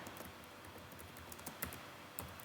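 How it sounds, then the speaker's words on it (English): Rapid, uneven clicking of a computer keyboard as an SQL query is typed, close and clear with no voices, keys tapping in quick bursts. "Now I'm typing my subquery."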